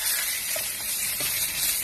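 Fish frying in a pan as part of making a traditional Chinese soup, a steady close sizzling hiss with faint crackles and no talk throughout.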